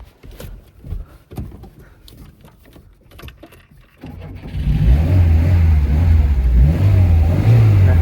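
A methane-fuelled car's engine starts up after a few scattered knocks and then revs steadily and loudly, a close, continuous droning roar with rising and falling pitch.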